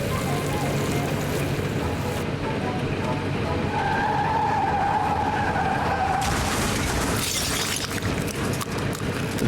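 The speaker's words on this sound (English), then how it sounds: "The car sound is just gonna keep going in the background" A looping car-engine sound from the Nancy Drew game Secret of the Old Clock, a steady, rushing motor drone with a brief higher whine in the middle, running continuously in the background.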